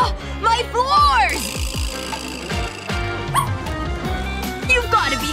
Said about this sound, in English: Get that dog out of here!